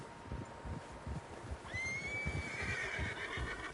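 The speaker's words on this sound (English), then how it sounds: "Horses, quite a few of them." In a video game, a horse lets out a loud, drawn-out whinny partway through, over a rumbling bed of hoofbeats and movement from several horses.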